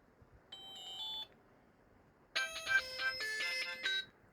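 A mobile phone with a newly replaced speaker plays a melodic electronic ringtone in two bursts, a short phrase and then a longer, fuller run of bright tones, clear and close.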